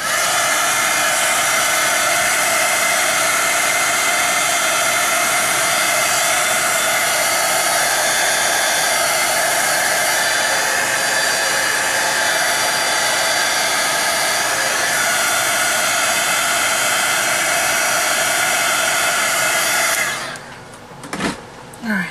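A hair dryer runs loud and close, drying freshly made craft tag holder pieces with a continuous steady whine before cutting off near the end, followed by a few clattering handling sounds.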